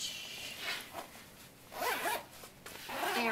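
A zipper slides along a large pocket on a Vera Bradley quilted backpack, several short close zips with brief pauses, quiet and without talk.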